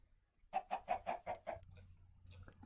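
A run of six rapid, close chicken clucks in Minecraft's FTB One modpack, steady and rhythmic, then trailing off into soft ambient game noise with a few faint high chirps; no speech.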